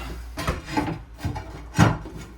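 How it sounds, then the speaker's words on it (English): A diamond grinding bit bevels a tile edge during a bathroom remodel in a manufactured home, giving a close, gritty rasping that rises and falls in short repeated strokes. No one speaks. "diamond grinders to just kind of bevel the edge"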